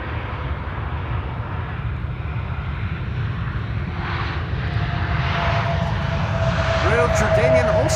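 A KLM Airbus A321neo jet arriving at Amsterdam Schiphol Airport gives a steady, broad engine roar that slowly grows louder as the plane approaches, and someone talks over it throughout.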